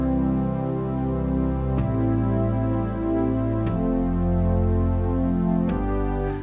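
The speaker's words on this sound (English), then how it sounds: "Now, if I just did the first of every chord, so I didn't change the inversion," Sustained piano chords played in root position, each one changing with a clear jump roughly every two seconds, ringing full and close with no talking.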